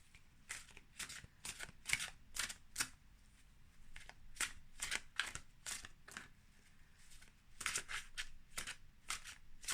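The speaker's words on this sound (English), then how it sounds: "So I'm gonna shuffle a bit more." Tarot cards shuffled by hand in a quiet room, a rapid series of crisp riffling bursts with short pauses between them, close and fairly soft, with no talking.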